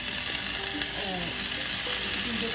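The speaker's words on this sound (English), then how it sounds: "We're going to be sweating the onions, and we're going to be scraping it from the side as well." Onions sweating in a pan, a dense close sizzle with faint scraping from the side of the pan, steady and alone without talk.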